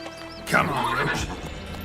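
Roach, the horse in The Witcher 3, gives a loud close whinny along with hoof clatter in a short burst, and a voice sounds faintly around it.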